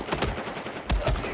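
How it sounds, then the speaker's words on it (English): Video game gunfire from Battlefield 4, a quick burst of several sharp shots in rapid succession, loud and close. "Where's this sniper shooting?"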